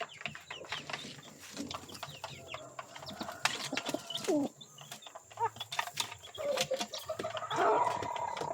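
Pigeons coo and flutter outdoors with assorted bird calls and clucks, short repeated calls scattered over a busy, moderately faint background, no voices.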